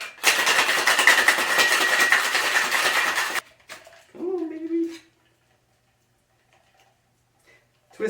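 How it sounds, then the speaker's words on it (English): A metal cocktail shaker tin holding a gin sidecar, with London Dry Gin, is shaken hard for about three seconds, giving a dense, loud rattle of ice. A short clatter follows, then near silence. "Insert your tin, pop it, and shake."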